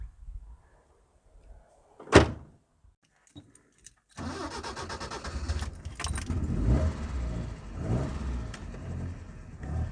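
Keys jingle and a door clunks, then a 1970 Alfa Romeo 1750 GTV engine cranks and catches, settling into a low, rumbling burble that continues at moderate volume.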